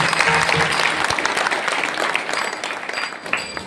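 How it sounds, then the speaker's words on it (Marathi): Audience at a Hindu devotional kirtan gathering in a village applauds, a dense steady burst of many hands clapping together that holds for several seconds before easing off slightly. "या सर्वांकरता जोरदार टाळी वाजवा"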